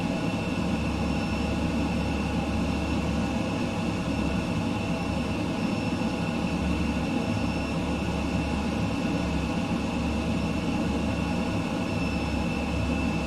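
Airplane engine in Microsoft Flight Simulator 2020 on a low-level flight: a continuous, steady drone with a constant hum and a faint high whine, unbroken and even throughout.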